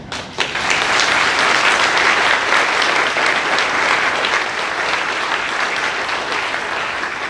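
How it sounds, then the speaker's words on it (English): Audience at Leesa Manion's oath of office ceremony breaks into sustained applause and cheering, a loud, dense wash of clapping that holds steady throughout. "Thank you for cheering me on."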